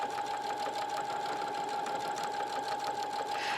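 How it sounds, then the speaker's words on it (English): A sewing machine fitted with a decorative satin-stitch foot runs at a steady, even speed, stitching a seasonal fabric band for a pillow with a constant mechanical whir and no pauses. "let the machine do what it wants to do."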